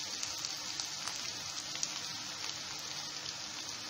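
Ginger garlic paste fries with onions in a pan for chana masala while being stirred, making a soft, even hiss with small crackles throughout.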